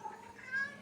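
A cat gives a short, faint meow, quick and close in a quiet outdoor garden.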